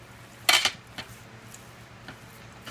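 Ingredients for black tahini brownies are mixed in a bowl, giving a few brief clinks and scrapes of utensil against the bowl, close and fairly quiet, separated by pauses.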